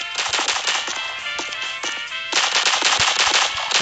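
Rapid automatic gunfire from the video game Pixel Strike 3D, loud and continuous bursts that pause briefly near the middle, then resume even louder.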